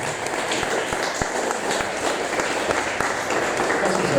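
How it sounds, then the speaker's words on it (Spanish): A church congregation applauding during a worship service, with a sustained, fairly loud patter of many people clapping and a few sharper individual claps, a faint murmur of voices mixed underneath. "¿Le puede dar un fuerte aplauso a Jesús?"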